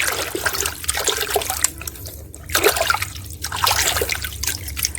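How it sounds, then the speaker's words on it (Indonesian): Water runs and splashes over a toy car as it is washed, in uneven bursts of trickling and pouring that come and go, close and fairly loud, with no voices. "Kita cuci dulu ya teman-teman ya."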